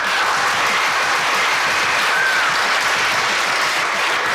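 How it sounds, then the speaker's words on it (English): An audience in a classroom setting applauds loudly and continuously, a dense, even clapping that holds throughout without a break. "Give him a round of applause, guys."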